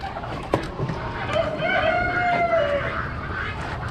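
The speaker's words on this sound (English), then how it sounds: "Cochin or Cochin mixed roosters." Cochin or Cochin-mix roosters at an Amish animal auction let out one drawn-out crow at moderate distance, with clucking and general barn chatter around it.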